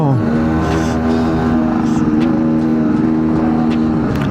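A car's engine drones steadily while driving, its pitch climbing at the start and shifting slightly through the moment, loud and close inside the vehicle.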